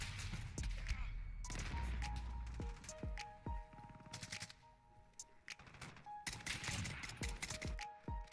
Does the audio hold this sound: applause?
no